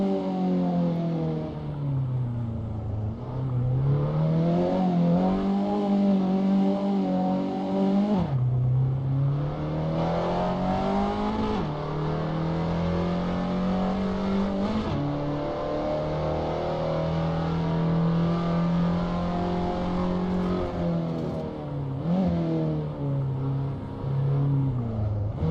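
An Abarth 500 engine in Assetto Corsa, driven with a G29 steering wheel, revs steadily in first gear, a loud continuous drone that climbs and drops repeatedly with sharp pitch resets as the throttle is lifted and reapplied, with no voices.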